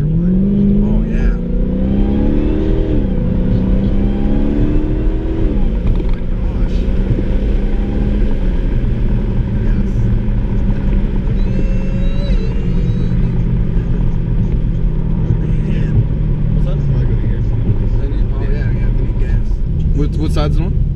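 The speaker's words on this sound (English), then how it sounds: "And you can just hear that supercharger whine." A supercharged Dodge Hellcat accelerates through its gears with a loud engine roar and rising, falling supercharger whine. Heard from inside the cabin, the engine runs steadily under people talking.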